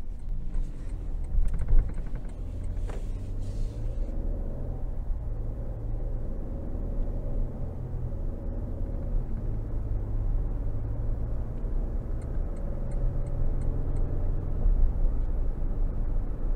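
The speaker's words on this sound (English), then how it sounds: "take this 22 Tundra out on the road for a quick test drive" A 2022 Toyota Tundra SR5 with the 3.5-litre twin-turbo engine driving on a road, a steady low cabin rumble and road noise that stays even and moderately quiet throughout.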